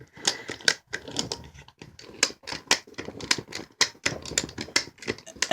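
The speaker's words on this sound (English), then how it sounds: "we're just going to keep ratcheting this thing" A ratchet strap is cranked tight around a tire that has come off its rim, giving a steady run of quick, close mechanical clicks in short bursts with no talking.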